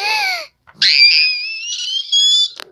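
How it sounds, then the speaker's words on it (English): A high-pitched, shrill scream rings out twice with a brief gap, close and loud, the second cry long and wavering, preceded by a shorter vocal outburst. "Don't scream."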